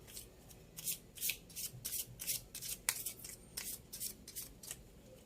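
Oracle cards being shuffled by hand, a rapid run of crisp riffling bursts with brief pauses between them, close and moderately loud over a faint hiss, with no talking.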